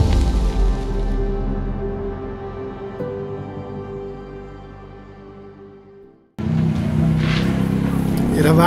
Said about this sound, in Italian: è arrivata una macchina un po' rumorosa che ha parcheggiato l'autostrada in parte al camper